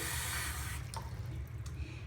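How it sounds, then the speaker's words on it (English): Hot water running from a tap into a shallow bath for a bearded dragon, a steady close splashing stream with a few brief drips and bumps, no voices. "So I'm just going to add some hot water to his bath."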